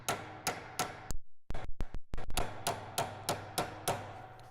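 Sharp metal-on-metal hammer blows drive a chisel to work out a broken bolt, a steady run of evenly spaced strikes broken by a quick flurry of lighter taps midway, close and ringing.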